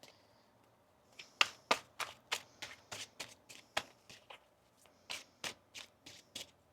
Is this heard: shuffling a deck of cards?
yes